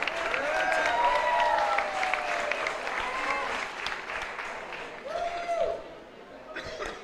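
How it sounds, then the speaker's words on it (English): Audience at a festival talent contest applauds a contestant, a loud burst of clapping and cheering that gradually thins out, with whoops and voices calling over it. "let's give another hand for Lauren Beth Faulkner."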